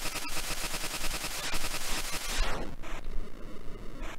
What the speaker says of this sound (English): and more little bullets firing everywhere